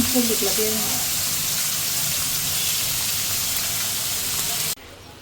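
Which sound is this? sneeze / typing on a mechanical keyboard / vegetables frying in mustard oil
vegetables frying in mustard oil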